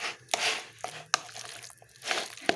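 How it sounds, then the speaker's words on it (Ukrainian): A seasoned salad being tossed and mixed in a bowl, a few crisp clicks of utensil against dish between soft rustling, crunchy turns of the ingredients, close and fairly quiet, with no talking. "І знов перемішую такий салат"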